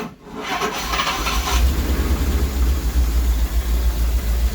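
A Rolls Royce car engine idles steadily with a deep, continuous low rumble, close and loud, with a brief rubbing scrape near the start and no talk.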